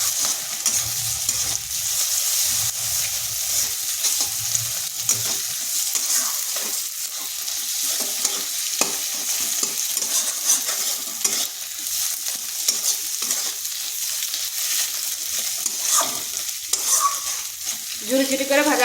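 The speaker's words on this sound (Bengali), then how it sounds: "এরপর ডিমটাই পেঁয়াজের সাথে মিশিয়ে নিচ্ছি।" An egg and fried onion are stirred and fried together in a pan, giving a steady bright sizzle with scraping stir strokes throughout, close and fairly loud, with no talking.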